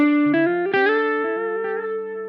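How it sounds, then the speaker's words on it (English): PJD St. John Elite electric guitar with delay and reverb picks out a short lead melody, single notes ringing and overlapping in echoing tails, slightly edgy tone, played alone. "with just a little bit of delay and reverb, I can play around with lead lines or melodies."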